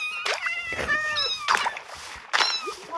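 Several short, high, cute chirping calls from axolotls in a video game come in quick bursts, like little meows, clear and close with quiet gaps between them.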